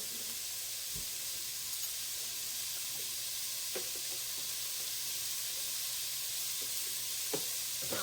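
Carrots cooking in oil in a pan for shrimp soup, giving a steady, close sizzling hiss throughout with a few faint clinks and taps from utensils, no talking.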